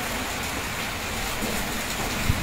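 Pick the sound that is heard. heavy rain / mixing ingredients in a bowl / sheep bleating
heavy rain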